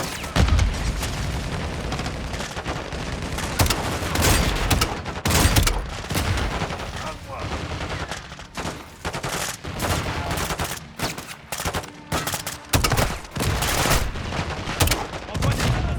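Dense, continuous gunfire and explosions in the Call of Duty Modern Warfare 2 video game during a suppressive-fire sequence: rapid automatic bursts, booms and blasts overlapping without pause for the whole stretch.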